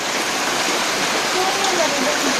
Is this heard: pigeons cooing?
no